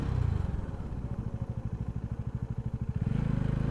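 A bike ridden slowly along a narrow, pothole-dotted asphalt mountain road without side fencing, its mid-pitched engine chugging in a steady, even pulse close by, rising slightly near the end.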